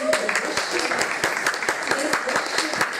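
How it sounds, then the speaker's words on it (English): Congregation at a Friday Sabbath church service clapping loudly, a dense, sustained burst of applause with sharp individual claps standing out, some voices mixed in. "Can you give a loud clap for him?"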